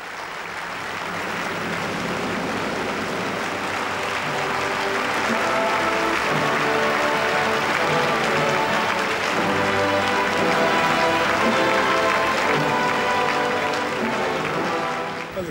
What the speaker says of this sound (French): Son entrée dans la loge du tsar a soulevé un tonnerre d'applaudissements.